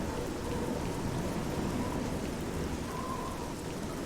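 Steady rain falls in a dark, stormy game scene, a dense, even hiss of drops that stays constant throughout with no voices.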